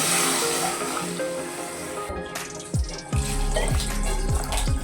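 About two to two and a half glasses of water poured into a pot of paya soup seasoned with salt, a steady splashing close by, followed by a few short clunks and continued pouring.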